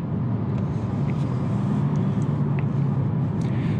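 A 2020 Hyundai Venue, a small low-horsepower crossover, drones at high revs from inside the cabin, a steady loud engine hum with road noise and no gaps.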